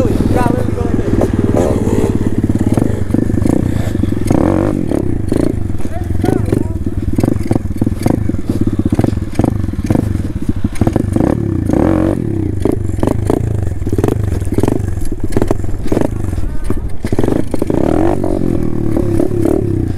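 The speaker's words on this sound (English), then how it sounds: "In first gear, you can't move with a wheelie." A pit bike engine revs hard in first gear while its rider tries to pull a wheelie, loud and close with repeated throttle bursts, rattles and scraping. Voices talk over the engine now and then.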